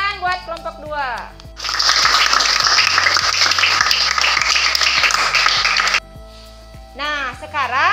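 Classroom of children in an elementary school clapping together for a student group, a loud burst of dense applause lasting several seconds, with a teacher talking before and after it.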